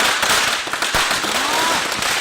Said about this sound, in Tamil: அதான் பட்டாசு வெடிக்கிறோம்.